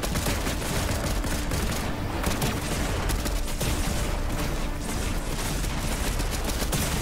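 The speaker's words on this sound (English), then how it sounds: "I just got immediately headshot with the breacher" Fortnite gunfire from a Breacher shotgun erupts as a dense barrage of rapid, overlapping shots that keeps up for several seconds with little letup.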